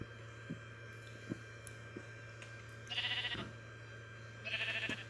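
Sheep bleating in the Minecraft video game, two short bursts a couple of seconds apart over a steady background hum, with faint clicks between them and no talking.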